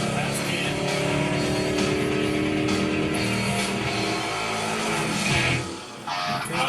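A 1964 Mercury Comet Caliente drag car making a pass at the strip, a steady loud engine roar that holds throughout and drops briefly near the end, with a voice talking over it.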